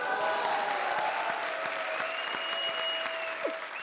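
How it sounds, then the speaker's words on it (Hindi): A television comedy show's studio audience applauds, dense sustained clapping that fills the whole stretch at an even level. "ठोको ताली।"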